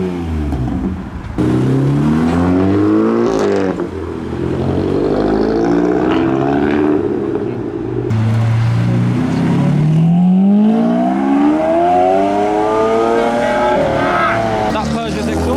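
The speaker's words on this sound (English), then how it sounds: "That Peugeot's exhaust is cool." A modified Peugeot revs its loud aftermarket exhaust at a car meet. The engine climbs and falls in sweeping pitch with close, throaty roars, and people talk over it.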